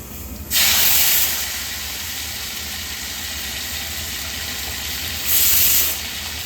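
A pressure cooker boiling chickpeas hisses out steam in a loud, close rush that bursts in, holds as a steady roar, then surges again near the end, with no talk.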